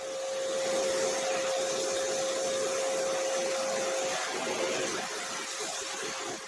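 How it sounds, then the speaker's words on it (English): A vacuum cleaner runs steadily close by, cleaning out a homemade air cleaner, with a constant whine and a strong airflow roar and no talking. "then I'm going to bring the other one and vacuum that out as well"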